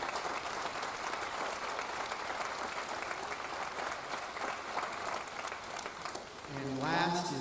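A high school graduation audience gives sustained applause for about six seconds, heard from a distance. A voice follows briefly at the end.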